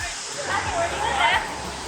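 Broad rushing water at the Fearless River, a wave river at the Volcano Bay water park, a steady loud wash with sloshing, close and continuous.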